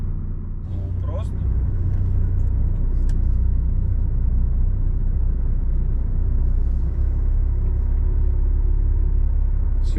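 Engine of a truck hauling 23 tonnes of iron from Zabaykalsk to Belarus, rumbling low and steady from inside the cab while driving, with someone talking briefly over it.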